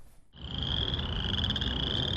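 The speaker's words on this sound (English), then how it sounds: "The sound of chorus frogs will soon give way to the chorus of 17-year cicadas in northern Illinois." Chorus frogs call in northern Illinois, a dense, continuous trilling chorus that swells in abruptly and holds steady and loud, with no voices.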